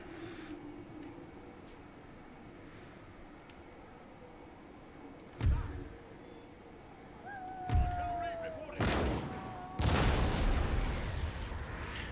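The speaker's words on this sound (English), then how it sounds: "So our cannons are firing." Cannons firing in the Empire Total War video game, several deep booming shots spaced apart over quiet battlefield ambience, the last ones louder and longer, with someone talking between them.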